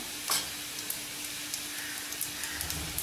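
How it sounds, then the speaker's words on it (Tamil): Steady sizzling of mustard seeds, urad dal, cumin, dried red chili and asafoetida frying in hot oil to temper a kulambu, with soft crackles and pops scattered throughout, close and fairly quiet with no talking. "இப்போ நம்ம குழம்பு வந்து தாளிக்க போகிறோம்"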